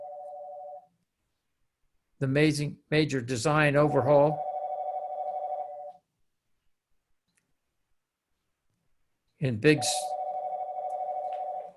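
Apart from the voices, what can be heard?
telephone ringing during a phone call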